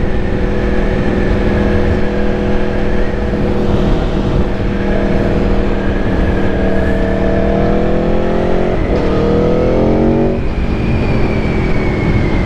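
A 2024 Aprilia Tuono V4 1100 Factory motorcycle's V4 engine under riding, a loud steady drone with pitch climbing through the gears and a gear change near the end, heard close with wind noise throughout.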